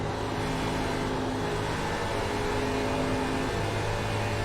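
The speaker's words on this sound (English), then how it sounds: "That is literally the tires themselves burning up as they go into those turns there." Tires on a NASCAR stock car in iRacing at the Indianapolis oval hiss as they burn up going into turns, a dense steady rush over a constant engine drone.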